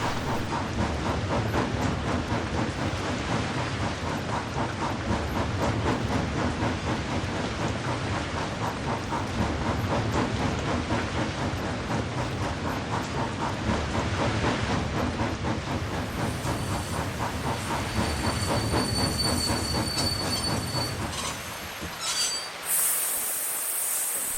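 Loud, continuous squealing and grinding of steam train wheels slipping on rails in a video game, with a steady mechanical rumble and hiss, ending abruptly in near silence.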